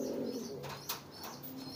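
A homing pigeon coos softly in a short, close run of low, throaty burbling notes over a steady background hum.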